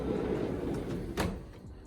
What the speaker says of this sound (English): So we have a slide door right here.